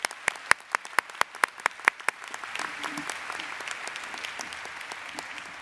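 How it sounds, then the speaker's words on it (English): An audience at a College of New Jersey elementary and early childhood department ceremony applauds award recipients, opening with distinct, evenly spaced loud claps before the clapping thickens into a steady, dense round of applause that carries on to the end. "Let's give all of our award recipients a round of applause."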